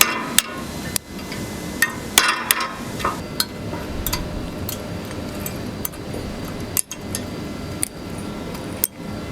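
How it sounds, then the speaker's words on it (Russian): Hammer and chisel striking a metal casting by hand, a series of sharp, irregular metallic blows, some closer together and some spaced out, close and fairly loud over a steady workshop hum. "работаем молотком и зубилом."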